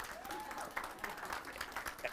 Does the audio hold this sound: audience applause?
yes